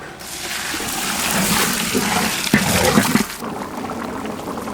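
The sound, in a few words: water poured into pot of vegetables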